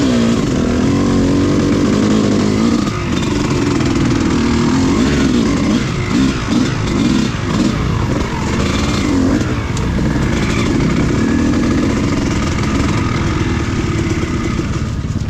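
A dirt motorcycle engine runs close and loud on an overgrown singletrack, revving unevenly and sputtering as it struggles to hold an idle, with the pitch rising and falling.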